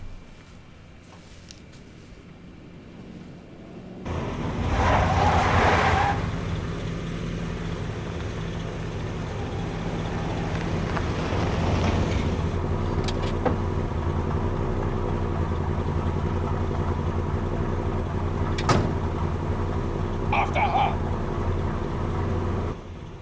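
Vintage car engine in Tomb Raider IV, a steady droning motor rumble that swells after a quiet start and holds for a long stretch with a few sharp transient knocks, no speech.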